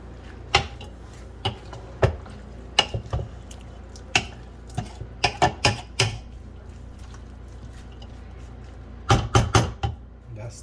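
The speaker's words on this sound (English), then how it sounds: "Mix it all up." Shrimp ceviche being mixed with habanero sauce in a bowl, heard as scattered sharp clinks and wet taps of a utensil, some in quick clusters, fairly faint over a quiet room.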